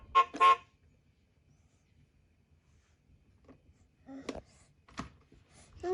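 A toy car horn on a busy-board activity toy gives two short beeps, followed after a quiet gap by a few faint clicks and taps of buttons being pressed.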